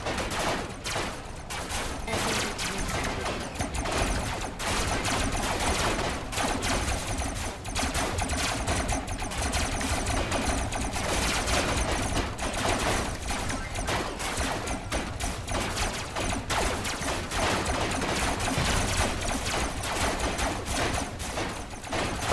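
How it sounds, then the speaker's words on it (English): Rapid SMG fire in the Robocraft video game, a dense continuous stream of crackling shots with no pauses, loud and steady throughout. "Now tap firing is the key to SMGs."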